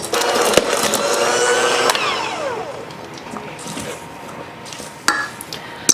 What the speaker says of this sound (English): I'm going to mix that again.